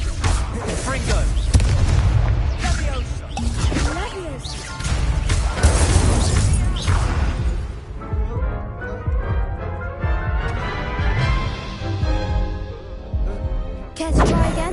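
Booming blasts of the Confringo fire spell in Hogwarts Legacy, several loud crashing hits in quick succession up close, with game effects and a voice casting spells between them.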